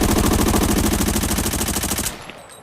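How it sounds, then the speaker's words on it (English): An M4 rifle in Arena Breakout fires a rapid automatic burst at a training dummy, a loud, evenly spaced stream of shots lasting about two seconds that then cuts off into a brief quiet tail. "I'm gonna shoot at that dummy"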